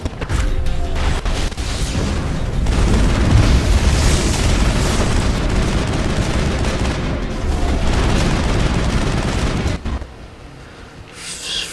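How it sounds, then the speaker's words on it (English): Sustained automatic gunfire in the Mass Effect video game, a dense continuous barrage of loud rapid shots with booming impacts that runs for about ten seconds before cutting off abruptly. "Let's get out the machine gun."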